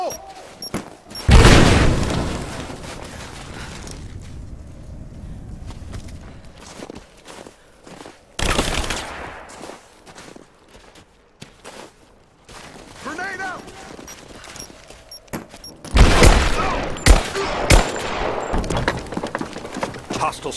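Explosions and gunfire in the video game Rise of the Tomb Raider: three heavy booming blasts with crackling bursts of shots, separated by quieter stretches of footsteps and ambience, with voices now and then.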